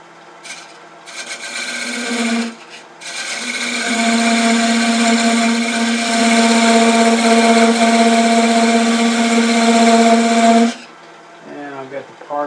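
A wood lathe spins a cherry wood bud vase blank while a tool tapers it, giving a loud, steady whirring hum with a rasping cutting edge that holds for several seconds, then cuts off abruptly.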